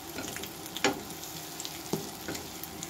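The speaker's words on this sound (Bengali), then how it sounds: "বাদামটা মাছটা ভাজা হয়ে গেছে" Fish and peanuts frying in a pan give a faint, steady sizzle with a couple of soft knocks or stirs, and no voices.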